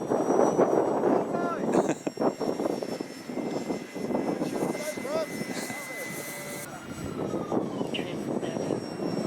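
A small radio-controlled Fun Cub model airplane flies overhead on its maiden outing, its electric motor droning and rising and falling in pitch, while people talk nearby outdoors.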